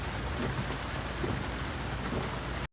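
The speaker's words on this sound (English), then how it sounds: "They manage to escape, and it starts raining." Steady rainfall in a film scene, a dense even patter of drops on surfaces, moderately loud and unbroken, with faint low rumbles beneath and no talking, cutting off abruptly at the end.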